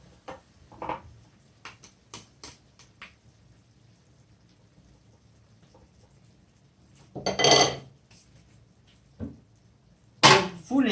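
A spoon knocks and scrapes against a pot of Korean pork rib stew in a series of sharp, close clinks, with quiet gaps between and two louder clattering bursts near the end.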